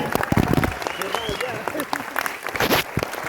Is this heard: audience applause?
yes